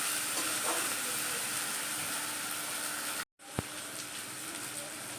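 A spice masala frying in a pan for chicken curry, a dense continuous sizzle broken by a brief gap before a sharp clack, then sizzling again.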